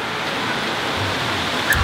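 Heavy rain downpour falling steadily outdoors under a tree, a dense continuous hiss close around with no speech.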